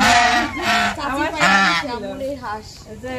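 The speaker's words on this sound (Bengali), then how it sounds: "এই যে আমার বইনে পালছে হাঁসটা" A pet duck at a home gives loud, close, repeated honking quacks in quick succession, with a voice overlapping the calls.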